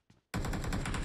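A short burst of rapid automatic gunfire in PUBG Mobile, loud and close, with a faint click just before the shots start.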